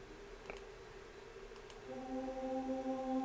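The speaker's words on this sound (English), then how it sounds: "It's like a choir." Choir-like sustained pad sample from the Expand 2 library in a trap beat, steady held chord tones that swell in around the hook after faint clicks, no voices talking.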